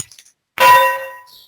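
A single bright bell clang, rung by a panel member as an interruption noise on a jazz show, strikes loudly and rings out for nearly a second before fading.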